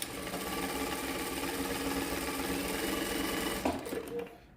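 A Prosew PS-1987A sewing machine runs steadily on stitch pattern number 7, a triple-style stitch, with a continuous mechanical whir that stops abruptly near the end.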